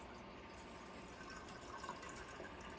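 Juice pouring through cheesecloth and a candy funnel into a jar, a faint steady trickling and splashing of liquid that runs throughout with no voices.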